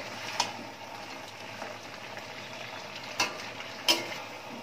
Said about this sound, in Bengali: একটু নাড়িয়ে দিচ্ছি যাতে নিচ থেকে কোনোভাবে একটু লেগে না যায়